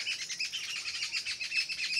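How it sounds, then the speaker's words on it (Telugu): Many birds chirp and call continuously in a dense, high, twittering chorus, steady and moderately loud with no voices. "అక్కడైతే పక్షులు అరుస్తున్నాయి"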